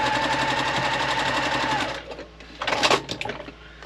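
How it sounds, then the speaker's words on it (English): Domestic sewing machine stitching pieces of a quilt block: a steady, close, rapid mechanical whirr for about two seconds, then slowing and stopping amid a few handling clatters. "So now we're going to actually sew these on each of the sides."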